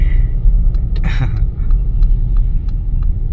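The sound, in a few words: road traffic noise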